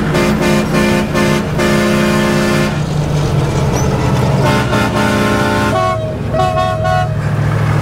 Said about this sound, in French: Est-ce qu'on va réussir à le faire klaxonner ?